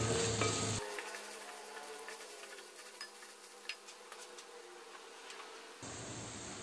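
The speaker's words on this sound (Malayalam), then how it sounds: "തക്കോലം ഇതെല്ലാം ആയിട്ട് നന്നായിട്ട് നമുക്ക് ഇളക്കാം" Whole spices, including star anise and a dried lemon, being stirred in a pot for chicken majboos, giving a steady soft sizzle with faint scraping clicks throughout, bracketed by brief louder bursts of noise at the start and end.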